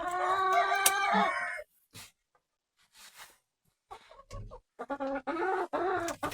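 A hen in a chicken coop gives several loud squawking clucks at first, then quieter scattered clucks and rustling with short silent gaps, ending in another run of close, agitated clucking.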